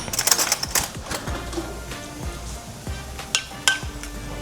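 Baked beans with brown sugar stirred in a pot, a spoon clattering and scraping against the metal in quick uneven strokes with a few sharp clicks, close and fairly loud.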